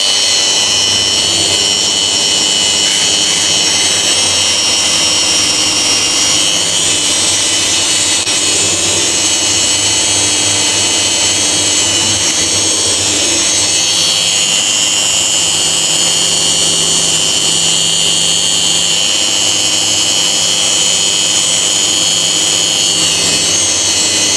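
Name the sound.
power tool with Tyrolit SCM disc finishing a weld seam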